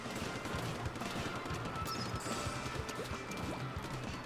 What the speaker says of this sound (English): Start shooting down at him.